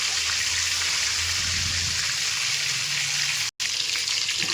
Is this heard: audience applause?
no